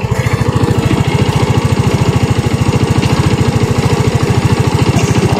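A Rusi RFI175 motorcycle engine idles steadily at close range, a fast, even, loud putter with a constant beat and no revving.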